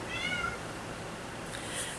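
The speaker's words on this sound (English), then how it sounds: "there's my cat" A pet cat gives a faint, short meow, then a second thin cry, both soft and distant against a steady indoor background hiss.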